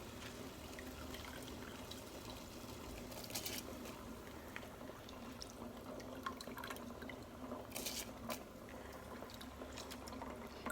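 A pot of water with whole spices bubbles at a full boil before basmati rice goes in for prawn dum biryani, making a quiet, steady simmering hiss with small pops.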